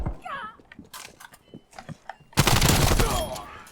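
Gunfire in Call of Duty Black Ops Cold War: sparse light shots early, then a dense, loud burst of sustained automatic fire in the last second and a half, close and harsh.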